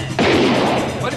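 Gunshots ring out in a film scene as one loud, sudden blast that starts abruptly and decays over about a second, close and dominant.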